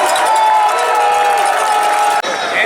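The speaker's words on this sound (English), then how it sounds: "Would you give him a big round of applause?" A crowd at the Argos' Grey Cup celebration applauds and cheers, a loud sustained roar of voices and clapping with one high tone running through it and a brief dip near the end.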